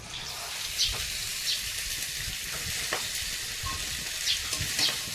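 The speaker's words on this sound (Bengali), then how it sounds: "আর একটু গোটা জিরে দেবো তেলে দিয়ে এই শাকটা দিয়ে দেবো" Leafy greens fry in hot oil with whole cumin seeds, giving a steady close sizzle broken by a few soft stirring scrapes and faint clicks. No one talks.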